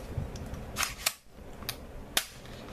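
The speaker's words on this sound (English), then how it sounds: "retract the stock until it clicks" The plastic stock of a KWA Mac 11 airsoft gun is retracted until it locks, giving a few sharp, quiet mechanical clicks in a short run with brief pauses between them, close up and with no talking.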